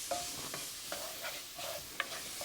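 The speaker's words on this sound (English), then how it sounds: "we're going to saute this for just a few minutes and get those onions soft" Onions sautéing in a roux for a sausage sauce piquant, stirred in the pot: soft continuous sizzle with repeated scraping stir strokes and a small clink, fairly quiet and without talk.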